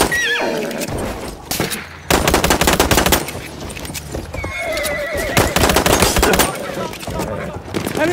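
Cavalry horse neighing in the WWI shooter Battlefield 1, loud whinnies rising over dense machine-gun fire and bursts of gunshots, with hoofbeats and battlefield chaos all around.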